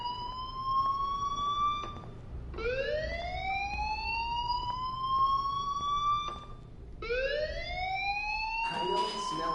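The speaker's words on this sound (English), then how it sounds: "Hey, do you hear that fire alarm?" A fire alarm in the video game Life Is Strange wails in repeating rising sweeps, each whooping tone climbing and holding before restarting, loud and continuous with a faint voice underneath.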